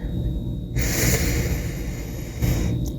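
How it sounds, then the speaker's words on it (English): A single long, deep breath drawn in through the nose, close and fairly loud, a breathy rush lasting nearly two seconds before a shorter second intake near the end, over faint room noise with no talking. "So take a deep breath in"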